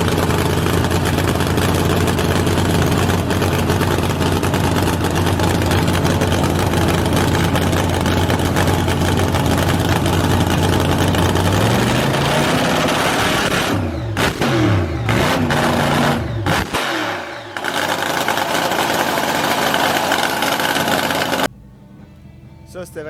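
A loud hot rod engine at a car show runs steadily, then revs and surges with changing pitch before cutting out abruptly near the end.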